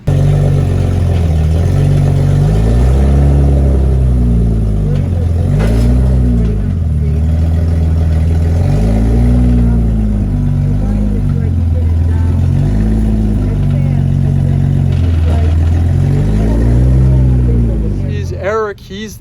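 A 1987 BMW E30 325e's engine revs in repeated rising and falling swells, loud and close, holding steady for most of the stretch before cutting off abruptly at the end.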